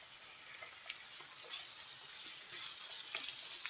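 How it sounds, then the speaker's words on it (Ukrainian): Onions and wild forest mushrooms frying in a pan, a steady close sizzle with scattered pops and crackles and occasional stirring scrapes, no talk. "Все тут підсмажується, шкварчить уже цибулька"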